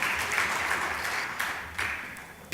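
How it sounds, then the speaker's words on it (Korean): Church congregation applauding the Evergreen choir at a Korean Sunday afternoon service, a dense, steady wash of many hands clapping that swells briefly near the end. "우리 에버그린 성가들을 위해서 우리 격려의 박수 한번 하겠습니다."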